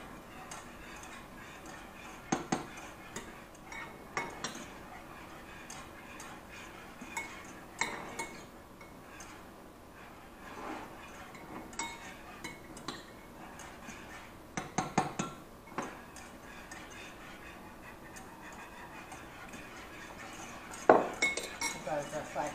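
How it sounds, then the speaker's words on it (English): A spoon stirs parmesan into cream in a pan, producing quiet, irregular metallic clinks and scrapes against the cookware with soft background room noise. "I'm going to go ahead and add my parmesan about a tablespoon at a time, stirring the mixture constantly"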